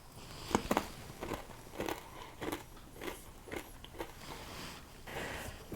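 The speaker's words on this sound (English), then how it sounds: "just listen to the crack" Homemade oil-free rye crackers snap and crunch in a series of close, crisp bites, with sharp cracks followed by irregular chewing crunches across several seconds.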